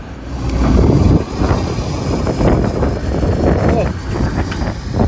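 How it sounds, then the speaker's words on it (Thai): Strong wind buffets the microphone at a clearing work site with a Kobelco SK200-9 excavator, a loud continuous roar with gusty surges throughout and no one talking. "ลมแรงจัดเลย"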